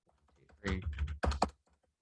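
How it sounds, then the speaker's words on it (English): Fast typing on a computer keyboard, with quiet scattered keystrokes that build into two dense, loud bursts of rapid clicking. "And it's because I'm typing too quickly."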